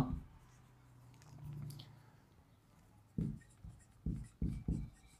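Writing a mnemonic on a board during a pharmaceutics lesson gives faint marker strokes at first, then a handful of short, sharp scratching taps close by near the end.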